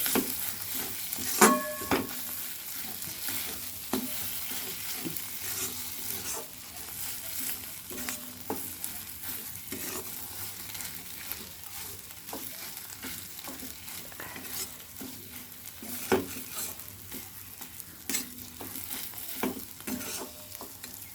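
Chicken, one kilo, being stir-fried with a nearly cooked spice masala in a pot, a steady sizzle with scraping and clanking stirs recurring throughout at moderate loudness, no talking.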